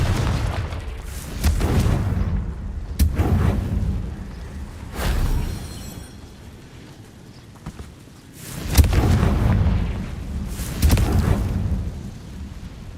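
Spell blasts from the Hogwarts Legacy video game: several heavy, booming explosions spaced a few seconds apart, each a loud burst that rumbles away, with quieter game ambience between them.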